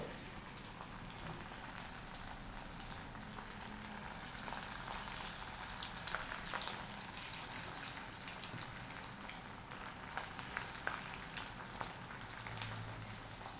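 Small bajra pakodas frying in hot oil, a steady, even bubbling sizzle with faint crackles, quiet and continuous, with no talk.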